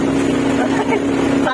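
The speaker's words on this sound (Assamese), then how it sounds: "বৰ্তমান আমি নাও চলাই আছো" Motor boat moving across Sonbeel wetland in Assam, a loud steady engine drone with a constant low hum and water wash, close and continuous throughout.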